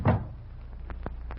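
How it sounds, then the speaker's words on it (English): A door closed shut in an old western setting, one soft thud at the start followed by a couple of faint knocks and low room hum. "Now close the door."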